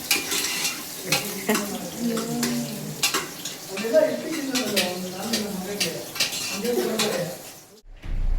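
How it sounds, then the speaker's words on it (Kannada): Ingredients for sambar frying in a pan at a home stay kitchen, with steady stirring, spoon scrapes and pot clatter over a soft sizzle, close and continuous, with a brief sharper knock near the end. "ಈಗ ಸದ್ಯಕ್ಕೆ ಫಸ್ಟು ಸಾಂಬಾರಿಗೆ ಫ್ರೈ ಮಾಡ್ಕೊಳ್ತಾ"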